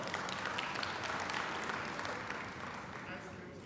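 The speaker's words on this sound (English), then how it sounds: "So let's give a big round of applause to Umnotho." Applause from an audience at the Gauteng Premier's State of the Province Address, a broad, even patter of many hands that carries on, then eases slightly toward the end, with faint voice traces mixed in.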